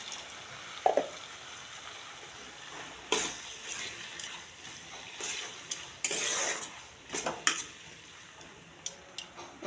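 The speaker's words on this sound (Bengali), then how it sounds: "এবার এতে দিয়ে দেব আগে থেকে কেটে রাখা ক্যাপসিকাম, পেঁয়াজ আর কাঁচা লঙ্কা" Chopped capsicum, onion and green chili fry in a cooked-down spice masala for chili soybean, giving a steady sizzle with spatula scrapes and pan clatter coming and going throughout.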